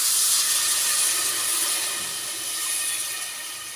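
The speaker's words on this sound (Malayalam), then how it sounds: "വെള്ളം ഒഴിക്കാം." Water is poured into a hot pan for cooking rice and meets the heat with a loud, steady hiss that eases slightly toward the end. No voices are heard.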